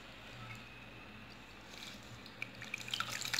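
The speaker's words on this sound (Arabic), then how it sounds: "دابا غادي نجمعها بالماء، كنستعمل انا غير الماء البارد." Cold water trickles and drips into semolina while mixing harcha dough, a soft, close liquid pattering that grows slightly louder and splashier toward the end, with no talking.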